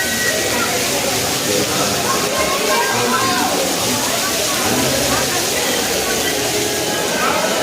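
Water splashes and rushes steadily as hands and feet are washed at the Manasi Ganga lake on the Govardhan parikrama, a dense continuous wash of sound with voices faintly underneath.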